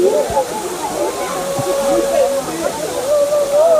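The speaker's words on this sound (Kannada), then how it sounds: "ಇದು ಅಬ್ಬಿ ಫಾಲ್ಸ್." Abbi Falls waterfall near Sakleshpur rushes with a steady, loud roar of falling water throughout, while someone talks over it close by.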